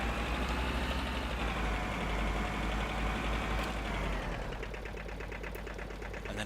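A tractor engine running in the Farming Simulator 2013 video game, a steady loud droning rumble with a fast mechanical chug that continues unbroken throughout, with no talk over it.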